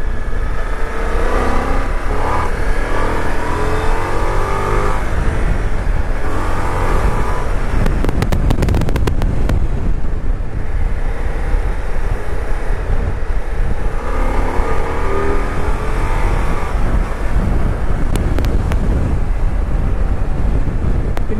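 Ducati Multistrada V4S motorcycle accelerating hard on the road, with loud rising engine roars swelling and easing in bursts, heavily mixed with buffeting wind noise across the whole stretch.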